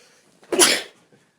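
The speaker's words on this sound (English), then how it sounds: "sneezing" A single sharp sneeze bursts out close and clear, a quick inhaled lead-in followed by an explosive breathy burst that fades within half a second, alone against near silence.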